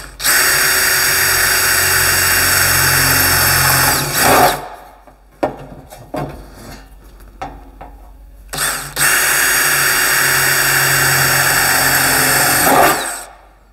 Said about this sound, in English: so you just see me drill those two top holes out